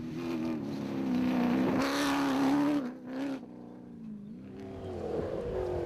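Toyota and Ford rally cars race through sugarcane fields during the 2013 Sugarbelt 400, engines droning and revving loudly up close with shifting pitch, briefly dipping before rising again.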